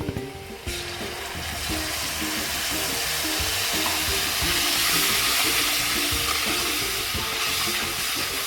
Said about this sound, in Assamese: অলপ ভাজিব লাগিব, যেতিয়ালৈকে এইটো মিক্স হৈ নাযায়।